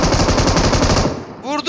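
Rapid automatic gunfire in the mobile video game PUBG Mobile, a loud close burst of fast shots lasting about a second, followed by a brief voice.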